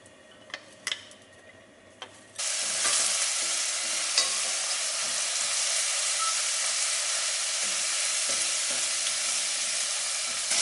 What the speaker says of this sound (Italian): ci mettiamo 2 cucchiai di olio, aggiungiamo l'aglio e la cipolla tritati